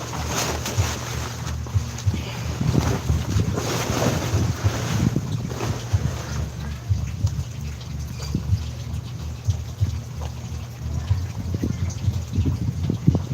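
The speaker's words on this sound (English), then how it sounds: "the wind just picked up really nice" Outdoor wind gusts buffet the microphone in uneven, rumbling bursts, loud and close, with a steady low background hum throughout.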